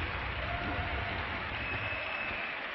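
A crowd applauds and cheers at a League of Legends esports match between TSM and Team Legion, a steady wash of clapping and crowd noise throughout.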